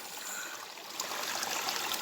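Soft, continuous rushing and trickling of a clean stream flowing near an ancient cave and waterfall in Kisii land, a faint steady hiss with slight surges, no speech.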